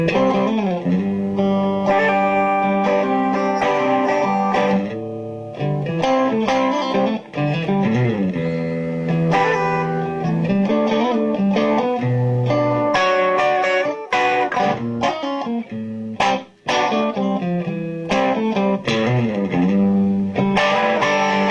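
An electric guitar played through a Victoria VIC105 Ammo 10-watt amplifier, with a continuous bluesy passage of distorted chords and single notes, loud and close with no talking.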